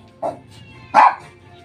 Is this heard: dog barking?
yes